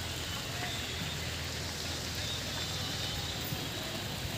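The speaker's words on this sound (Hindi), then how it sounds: "वृंदावन में आई बारिश, देखिए आप इस बारिश का आप आनंद लीजिए" Rain pouring in Vrindavan during a storm makes a steady, dense hiss close by, even and unbroken throughout with no clear voices.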